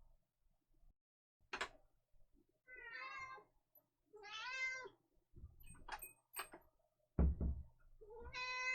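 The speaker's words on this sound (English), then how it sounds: "You're gonna be loud for a while, aren't you, cat?" A cat meows loudly indoors, giving several separate drawn-out cries spaced across a quiet room, with a sharp knock near the end.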